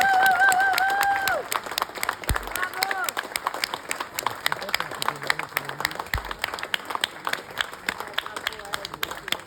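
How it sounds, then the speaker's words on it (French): Guests at a club event applaud in a scattered round of clapping that thins out into uneven individual claps, with voices talking and murmuring over it. "je vous demande un tonnerre d'applaudissements"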